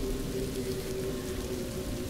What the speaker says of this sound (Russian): Оу, дождь пошел, гроза, все,